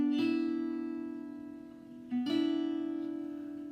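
A short blues turnaround lick in E played on clean electric guitar, with sustained ringing notes, a brief pause, then a second phrase ringing out alone.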